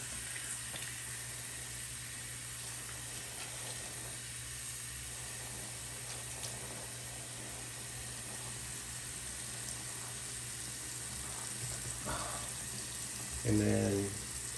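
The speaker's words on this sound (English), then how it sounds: "Now let's rinse her off so we can add the conditioner." Running tap water rinsing a vintage 1980s Barbie doll's hair, a steady hiss of flowing water throughout at moderate level, with a brief splash of water near the end.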